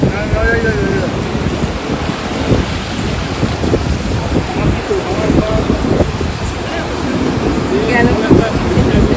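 Waves wash in on a South Goa beach of the Arabian Sea, a steady close surf rush mixed with wind buffeting the microphone, with people talking briefly over it.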